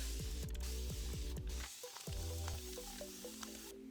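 Spray bottle misting microlocs, a series of quick hissing spritzes in a rapid rhythm followed by a pause and a few more sprays, close and fairly faint, with no talking.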